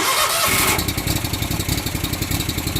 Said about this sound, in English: And that's how we start our two mowers.